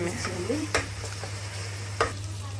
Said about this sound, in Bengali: এখন মশলাটাকে খুব ভালো করে কষিয়ে নিতে হবে